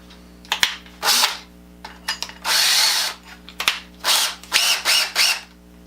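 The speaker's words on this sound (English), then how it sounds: "That lets me get in here and drill holes close to the vise without having to try and fight the drill motor down past to get a good clean straight hole" Bursts of a power drill with a long bit boring holes into a workbench next to a big bench vise, several loud whirring runs separated by clicks and short pauses.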